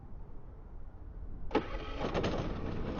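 A Harbor Freight gas pressure washer engine starts midway after a low hum, catching with a rough burst and settling into a steady running drone.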